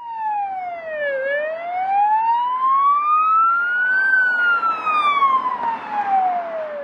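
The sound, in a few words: emergency vehicle siren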